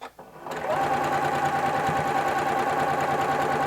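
Sewing machine running steadily, stitching long joined fabric strips of a jelly roll race quilt; a close, continuous mechanical whir that starts after a brief pause and holds at an even level throughout.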